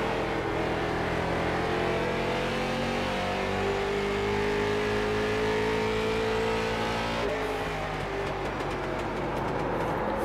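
A white car's engine drones loud and steady, its tone shifting slightly near the end, with no voices over it.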